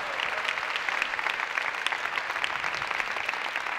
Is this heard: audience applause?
yes